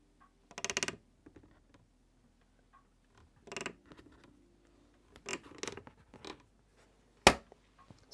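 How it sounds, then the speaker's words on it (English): A 3D-printed rear door on a Voron V0.1 printer creaks on its hinge in several short, close bursts at irregular intervals, ending with one sharp click, and no one talks over it. "The weird creak on the back door is..."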